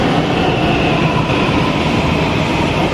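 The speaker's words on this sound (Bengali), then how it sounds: "এই দেখো মেট্রো চলে আসছে" A Delhi metro train rolls into a busy station, a loud steady rumble of wheels and motors filling the scene with no voices over it.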